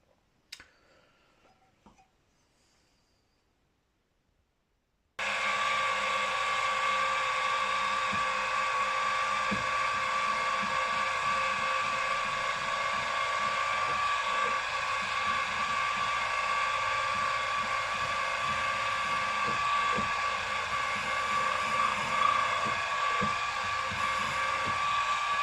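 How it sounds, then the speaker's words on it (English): A 3/16 inch hole drilled through metal on a 2 inch scale Fowler showman's traction engine part, a steady loud machine drone starting after about five seconds of near silence and running continuously to the end. "Now I've got to drill a 3/16 hole all the way through there."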